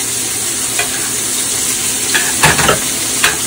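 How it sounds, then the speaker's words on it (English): A pan of mixed vegetables and spinach sizzles steadily beside a ribeye steak, with a few quick scraping stirs cutting through the frying, close and fairly loud, no talking. "I'm going to give it a quick stir."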